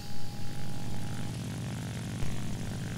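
Piston propeller engine of an LA-7b-20 fighter in War Thunder, a loud steady droning roar with a throbbing low rumble, holding constant with slight swells and no voices.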